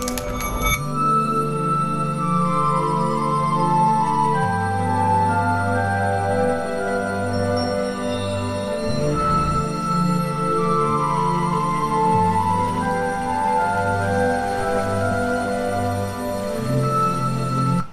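Layered orchestral music with sustained strings and low pulsing tones, steady and loud throughout, blended with ambient sound-design textures; no voices.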